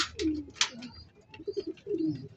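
A homing pigeon coos at its loft, with several low, throaty rolling coos spread across the clip and some faint chirping and rustle around it.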